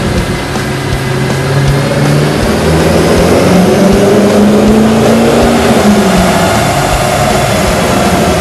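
A C5 Corvette engine runs hard on a chassis dyno, a loud steady roar with rising harmonic tones climbing through a full pull, constant and close with no talk.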